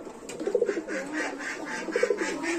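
Domestic pigeons in a home loft in Muradnagar, Cumilla, coo in soft throaty rolling phrases, two clear bursts of cooing over a steady background murmur of birds.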